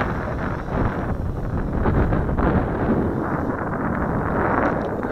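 Steady, loud wind buffets the microphone outdoors while a very light WLToys F959 Sky King three-channel RC airplane flies, a continuous low roar with gusty swells throughout and no voices.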